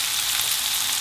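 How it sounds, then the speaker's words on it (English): Prawns fry in a hot pan with a steady, close, dense sizzle that holds evenly throughout, and no voices can be heard. "I've fried the prawns both sides, so they've had 3 minutes of frying."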